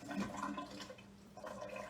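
Water poured into a Fuel Cycle drink mix to top it up, a steady foamy gush of liquid filling a container, close and continuous with a brief lull in the middle.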